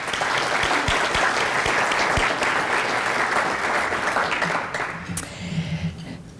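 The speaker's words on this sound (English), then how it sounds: "Help me give them a round of applause." Audience applause at a Veterans Day luncheon, dense sustained clapping from a large room of people lasting several seconds before thinning out and fading near the end.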